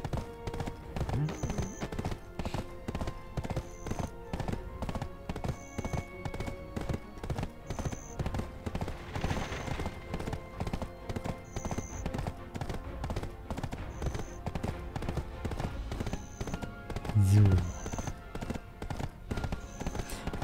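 A horse's hooves clip-clop in a steady, regular rhythm as it travels in Black Desert Online, with someone talking over the hoofbeats at times.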